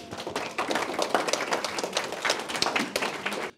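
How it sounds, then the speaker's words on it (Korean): An audience at a 2014 forum event in Korea welcomes a teacher to the stage with dense, continuous clapping from many hands, steady and fairly near, fading at the end. "박수로 맞습니다"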